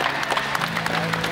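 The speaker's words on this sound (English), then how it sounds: "Everybody give Jimena a round of applause for helping us out today." Audience applause fills the stands at an orca encounter show in San Antonio, a dense, continuous clapping from a large crowd, loud and even for its short span.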